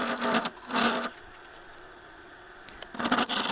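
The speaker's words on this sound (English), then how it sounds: "Using a square nose scraper, just coming around and trying to get some nice curvature to it" Square nose scraper cutting acacia hardwood spinning on a lathe, heard as three short bursts of scraping, humming cutting noise separated by a quieter gap, close and fairly loud.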